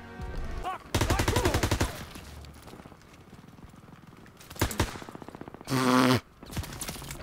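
Gunfire in the World War II shooter Call of Duty WW2 on Veteran difficulty: rapid automatic bursts, a couple of sharp single shots and another loud burst near the end, close and loud, with no talk.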